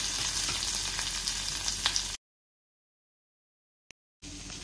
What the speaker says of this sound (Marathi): मी कढईत 2 चमचे तूप टाकून घेतले, तूप गरम झाले, हे आपण बटाटे उकडून छान कापून घेतले, ते आपण टाकून घेणार आहोत।